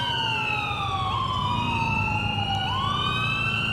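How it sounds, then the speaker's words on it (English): Several emergency vehicle sirens wail in the street, their rising and falling tones overlapping and sustained without a break against a constant low traffic rumble. "Good God, there's a lot of sirens."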